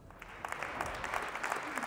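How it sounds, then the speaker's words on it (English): A squash match crowd applauding, steady spattering handclaps from many spectators filling the hall, moderately distant and fairly quiet, with a commentator's voice partly over it. "we can hear the crowd really enjoying this all-English affair"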